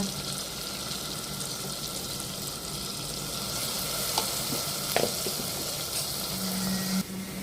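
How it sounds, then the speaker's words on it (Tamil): Tomato, fennel seeds, green chili and curry leaves sizzle steadily in a hot pan of oil for a kurma, a continuous close frying hiss with a couple of brief clinks, no voices. "தக்காளி, சோம்பு, ஒரு பச்சை மிளகா, கருவேப்பிலை போட்டு தாளிச்சிட்டேன்"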